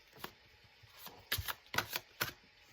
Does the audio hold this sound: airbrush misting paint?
no